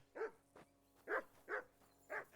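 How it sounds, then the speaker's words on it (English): A dog barks repeatedly in the medieval role-playing game Kingdom Come: Deliverance II, four sharp mid-loud barks spaced about half a second apart, with no talking. "Whistle at that mutt of yours to stop barking."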